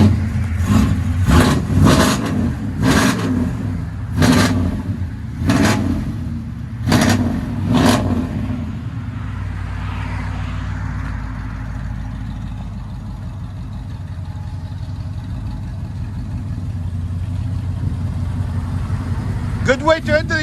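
A 1998 Chevy K1500 Silverado with true dual exhaust, long tube headers and straight pipes revs in a series of sharp, loud blips, then settles into a deep, rumbling idle, ending with a brief final rev.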